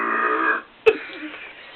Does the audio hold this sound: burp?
yes